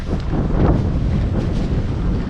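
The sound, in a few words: strong wind at the beach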